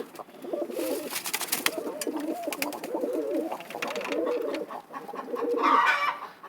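Pigeons in a coop cooing in repeated low, throaty phrases close by, with some rustling and a brief higher call near the end.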